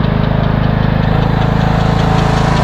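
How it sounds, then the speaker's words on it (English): A small tractor engine runs steadily, a loud close rhythmic chug with a fast even pulse and no speech. "should be a good little tractor"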